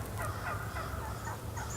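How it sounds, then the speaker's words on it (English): Wild turkey gobblers and hens calling from the roost before flying down, a steady run of soft clucking and gobbling calls heard at moderate distance over outdoor ambience. "you can often hear gobblers and hens communicating and getting ready to fly down from the roost"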